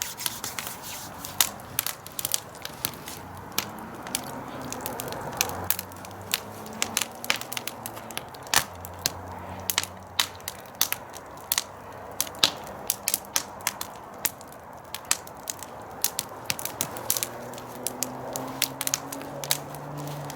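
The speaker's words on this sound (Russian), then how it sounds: "Вот там уже, блин, сковородочка такая шипит" A grill pan heating over an open fire outdoors while zucchini slices are cooked, with irregular crackles and pops from the flames and pan scattered over a low hiss across the whole stretch, with no talk.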